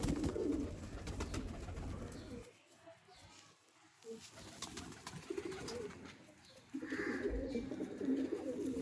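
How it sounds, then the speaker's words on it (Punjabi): Sialkoti Fakir Gul Patera pigeon cooing close by in a loft, several low throaty coos rising and falling over about nine seconds, with a quieter lull in the middle and faint rustling between calls. "ਇਹ ਉਹਨਾਂ ਦੇ ਮੁਤਾਬਕ ਫਕੀਰ ਗੁੱਲ ਪਟੇੜਾ ਕਬੂਤਰ।"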